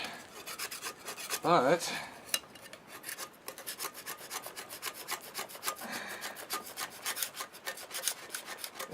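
A Harbor Freight 2-inch putty knife scrapes gasket residue off a 1988 Jeep XJ cylinder head, a steady close rasping that runs for the whole stretch with brief louder strokes and a short spoken word near the start.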